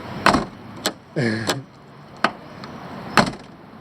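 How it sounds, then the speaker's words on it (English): The door of an Autobianchi A112 Abarth is shut, several sharp solid thunks with a short mechanical latch rattle between them, close and distinct with quiet gaps. "Let's check the door closing sound."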